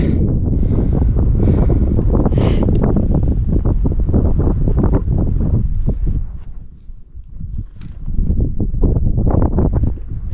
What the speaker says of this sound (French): Il y a un petit vent qui est pas très chaud non plus.